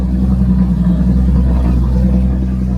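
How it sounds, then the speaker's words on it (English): Porsche GT3 RS cars just started up at a car meet give a steady, deep engine rumble close by, constant and unbroken for the few seconds heard, with no speech. "everyone's rushing over here to check out the GT3 RSs that just fired up"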